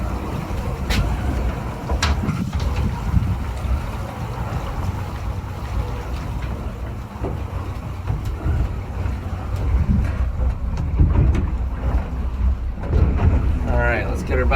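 Outboard motors on a Kingfisher boat idle and run near the microphone on open water in strong wind, with a steady low rumble, gusty wind noise and someone talking throughout.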